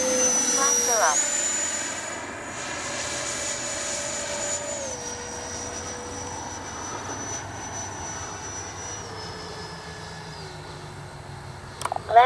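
A Kavan Skyfox L-39 80mm RC jet flying, its turbine whine steady and gradually shifting in pitch as it passes at a distance, with a voice speaking over it.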